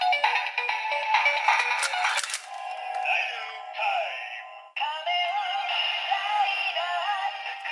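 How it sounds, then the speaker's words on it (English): A Kamen Rider Ridewatch toy gives off bright electronic chimes and warbling tones as its face is turned, a busy synthesized jingle with a short pause partway through, close and fairly loud. "as you can hear, the turning sound came from the Ridewatch itself"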